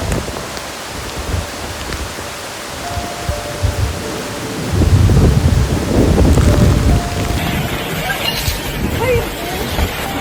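Wind and rain from Super Typhoon Saola roar continuously, with a heavy gusting surge midway that buffets the microphone, and a voice speaks over the storm noise.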